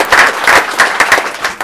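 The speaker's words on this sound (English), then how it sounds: "Let's give them another round of applause." Audience applause at a school board meeting honoring award recipients, a steady wash of many hands clapping at moderate loudness, filling the room without talk.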